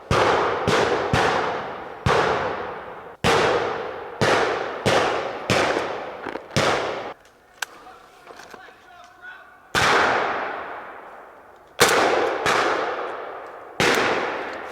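Gunfire at a WWII battle reenactment: a string of loud, close, sharp blank shots, some in quick pairs, each ringing out with a long echoing tail, broken by a short quieter stretch of distant rustling.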